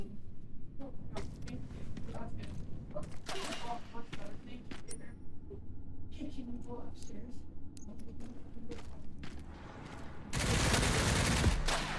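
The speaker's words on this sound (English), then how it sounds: "Where is this man shooting from?" Enemy gunfire in the Resident Evil 9 video game, a string of sharp scattered gunshots cracking across the scene amid ambient game noise, ending in a loud dense burst.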